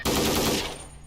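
M4 rifle with an underslung M203 grenade launcher firing in the Half-Life 2 mod Wilson Chronicles: a loud, dense burst of automatic gunfire lasting about half a second, then a fading echoing tail.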